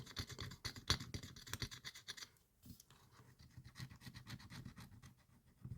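A coin scratches a scratch-off lottery ticket up close, a faint, quick rhythmic rasping in short strokes with a brief pause midway.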